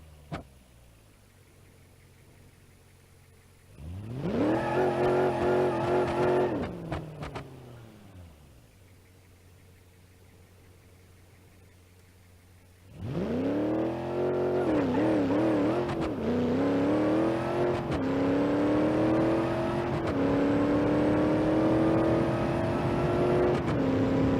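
Granny Cart car roaring through a quarter-mile drag run in BeamNG.drive, a short burst of revving first, then a loud sustained acceleration with rising engine pitch through gear changes, no talk.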